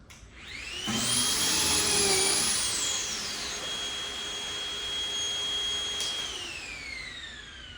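A power drill whines up to a high pitch and holds steady as it bores pocket holes into wood for a trailer door, then winds down, loud and close.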